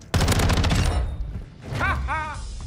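Rapid automatic gunfire in Call of Duty: Modern Warfare 2, a loud close burst of shots lasting under a second, followed by quieter game sounds and warbling tones.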